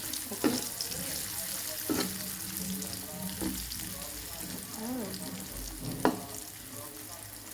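Cut potato slices for homemade chips fry in a pan with a steady low sizzle, broken by a few sharp clacks of stirring and light clatter, with faint background voice.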